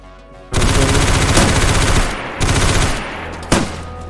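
Loud bursts of automatic gunfire in the video game DayZ, two long sustained volleys followed by a short sharp shot, close and dominant with no talking over them.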